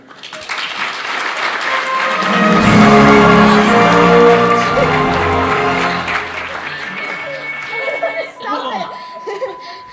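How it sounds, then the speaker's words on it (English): After a presentation at an idea competition, the audience breaks into loud applause that swells in the middle and then fades, mixed with laughter and voices talking over it. "Another round of applause."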